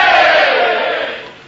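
A large crowd gathered outside a radio show roars and shouts together, loud and close at first, then gradually fading away over a second and a half.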